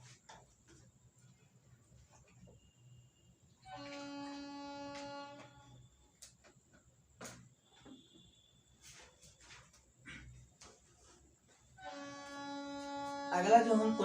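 A train on a railway line beside the room gives two sustained, tonal horn-like blasts at a moderate distance, separated by a quieter stretch of faint room noise.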